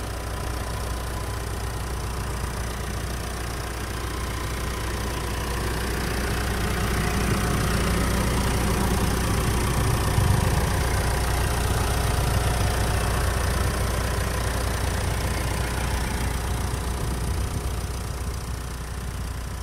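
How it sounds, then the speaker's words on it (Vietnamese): A 2017 Mitsubishi Triton pickup with a 2.5-litre DID diesel engine idles steadily, a smooth, even low rumble held at a constant level throughout with no voices. "Và đây là tiếng động cơ đang hoạt động đây."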